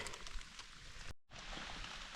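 Rain falling in a Carpathian forest, a soft steady hiss of drops with a brief gap of silence in the middle, faint and constant with no talk.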